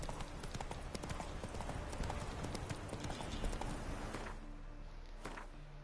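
Roach, the horse in The Witcher 3 video game, clip-clops its hooves in a steady, rapid rhythm that fades as the animal slows near the end.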